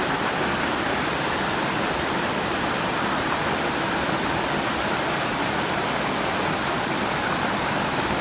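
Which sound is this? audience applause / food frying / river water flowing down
river water flowing down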